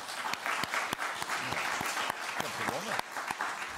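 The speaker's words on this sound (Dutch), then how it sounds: "Ik wil een groot applaus voor Meindert, ja." Audience applause at a Dutch local politics pitch event, steady clapping from a hall crowd with some voices mixed in underneath throughout.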